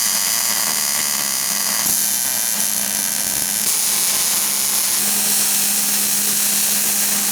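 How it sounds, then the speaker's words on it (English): Welding on a car subframe during a Wisefab V2 install fills the space with a steady, dense crackling hiss that runs unbroken throughout, with no voices. "now we're gonna have to go ahead and weld this"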